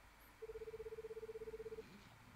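Electronic telephone keypad tones dialing 911 in the video game The Sandman, a rapid, even series of about twenty short beeps heard alone and clearly for roughly a second and a half.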